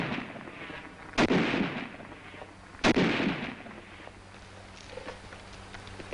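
A Tommy gun fires in a 1943 wartime training film, with two loud, sharp blasts about two seconds apart, each trailing into a rumbling decay over a noisy, old film soundtrack.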